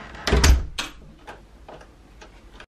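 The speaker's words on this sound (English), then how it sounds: "Close the door!" A household door closes with a firm thump near the start, followed by lighter knocks and rattles from the latch and frame, then a short silence and a sharp final click.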